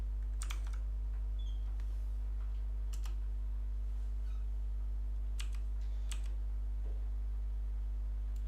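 Computer keyboard key presses while working in Blender, a few sparse, close clicks in small clusters over a steady low electrical hum.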